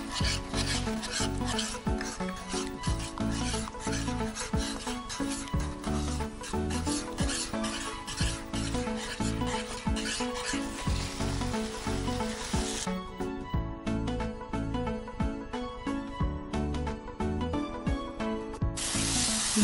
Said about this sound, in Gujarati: એક સાથે ઉમેરશું અને જોડે એક બીજા સાથે આપણે મિક્સ કરતા જઈશું આ રીતે